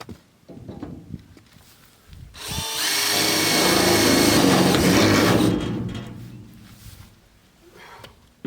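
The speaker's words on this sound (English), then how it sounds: "One more to drill." A power drill bores into a steel shipping container wall during a window install, starting after a quiet pause, whining steadily and loud for about three seconds, then trailing off into faint handling noises.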